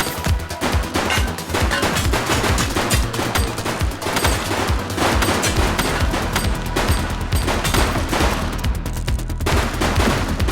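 Dense, continuous gunfire from the police video game The Precinct, rapid bursts and overlapping shots rattling loudly and without pause for about ten seconds, with no talk over it.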